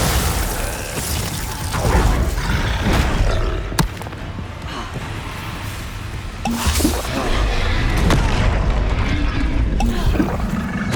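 Bombarda explosion spells firing in the Hogwarts Legacy video game, dense booming blasts and thuds layered over busy combat effects and music, with sharp impacts near 3.8 and 8 seconds.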